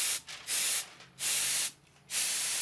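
A compressed-air blow nozzle fed by a shop compressor releases three loud, steady hissing blasts separated by short pauses, strong enough to push papers across a workshop.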